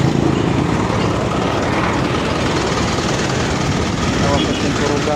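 An Isuzu 4HL1 engine runs with a rough, uneven idle and misfires. It gives a dense, continuous mechanical clatter and rumble up close, and a voice talks over it.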